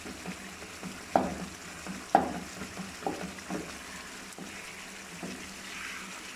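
Chicken karahi masala with green chillies and black pepper frying in a pan, with a soft continuous sizzle broken by several sharp spatula scrapes and knocks at irregular intervals.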